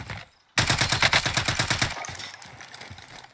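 Rapid automatic gunfire from Call of Duty Warzone: a loud, close burst of evenly spaced shots lasting about a second and a half after a short silence, then fading into scattered in-game noise.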